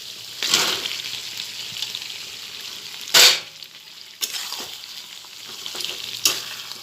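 Soaked vegetables dropped into hot spiced oil for a pui shak chachchori with vetki fish burst into a loud sizzle, followed by steady frying hiss and a few sharp splattering crackles.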